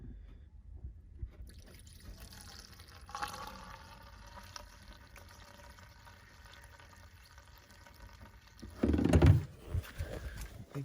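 Washer fluid being poured into the washer reservoir of a 2009 BMW 535i xDrive E60, a soft trickle and splash of liquid filling the tank, ending in a louder gurgling burst near the end, close up.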